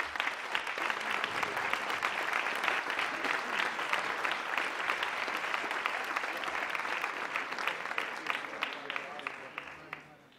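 An audience in Pont-Saint-Martin gives sustained applause at a concert by a municipal wind band. Many hands clap together in a loud, dense roar that holds steady for about ten seconds, then begins to fade at the very end.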